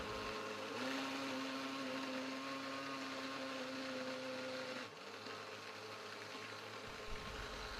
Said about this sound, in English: I proceeded to make the juice by cutting all the fruits and placing them on the blender jug